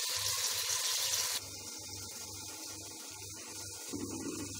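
About half a cup of water poured into a pot of matar pulao on the stove, a brief bright splashing hiss at first, then quieter cooking sounds with a steady rhythmic low pulsing underneath.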